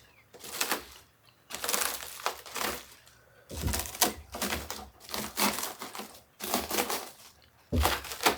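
A knife or cutter slices through a crisp, gluten-free freeze-dried tater tot pizza crust: a series of loud, crunchy cracking bursts separated by short pauses, close up with no talking.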